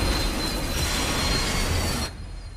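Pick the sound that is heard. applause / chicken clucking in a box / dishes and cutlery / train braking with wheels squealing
train braking with wheels squealing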